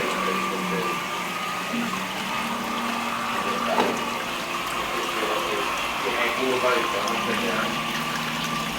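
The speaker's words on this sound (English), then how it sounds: "it's already sucking up the water through the line" Aquarium water-change hose drawing water out of a cichlid tank, a steady gurgling, slurping suction with bubbling and trickling, heard close under a voice.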